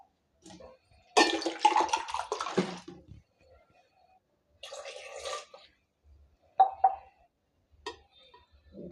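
Water is poured over raw unpeeled mangoes in a pressure cooker, a splashing rush lasting about two seconds, then shorter separate pours and splashes that stand alone and close by.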